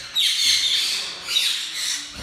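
A macaw lets out two harsh, loud squawks close to the mic, a long raspy call then a second after a short pause.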